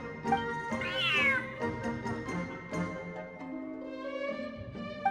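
Several cat meows from a video game, a run of clear, tonal cries, one rising and falling sharply, close and fairly loud over a steady game music bed with no talking.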